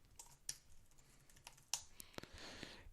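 Quiet, close typing on a computer keyboard: a few scattered key clicks, then a quicker cluster of taps near the end, with no voices.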